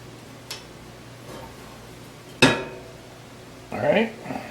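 A seasoned cast iron pan is handled and put away: a faint knock, then a sharp metallic clank, then a short rattle of clinks, with quiet room tone between.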